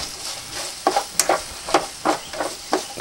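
Eggplant sizzles in a wok while a utensil stirs and scrapes in repeated strokes, roughly every half second, close by and without speech.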